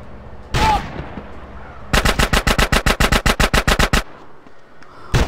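Rapid automatic gunfire in GTA San Andreas during a shootout at a pizza parlor: a single shot, then a sharp burst of around fifteen evenly spaced rounds lasting two seconds, loud and close, followed by a final shot.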